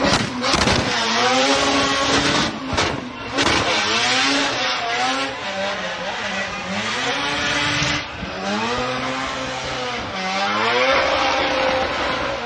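Drift car on a Formula Drift Japan qualifying run at Okayama, engine revving hard with rising and falling pitch sweeps through the transition, loud and continuous with tire noise under it for the whole stretch.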